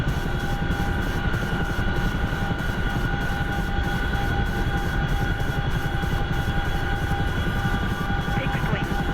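A video game helicopter in flight, its rotor thumping in a steady rapid rhythm over a constant engine whine, loud and continuous.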